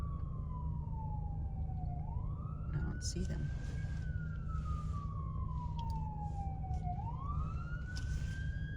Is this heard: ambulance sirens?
yes